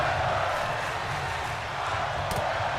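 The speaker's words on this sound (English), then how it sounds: "This crowd now screaming, fight forever." Dense, steady roar of a video game wrestling crowd in XFW Digital Wrestling, loud and continuous for the whole stretch with no clear break or lull.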